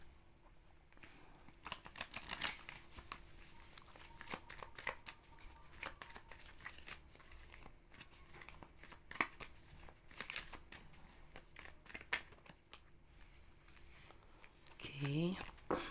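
Playing cards being shuffled, with bursts of crisp riffling clicks scattered across the stretch, fairly close and moderately loud, and a short voice sound near the end.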